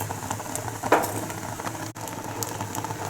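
Chapathi egg roll frying on a pan with a couple drops of oil over low heat: soft, steady sizzling and light popping patter, close and fairly quiet, with one brief louder crackle.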